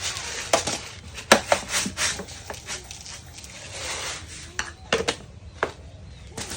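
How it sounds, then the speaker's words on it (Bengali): Lentils being rinsed by hand in a metal pot, heard as close, irregular clinks, rattles and splashy scrapes that come in uneven bursts with short pauses between them. "ডালগুলো আগে সুন্দরভাবে ধুয়ে নেবো"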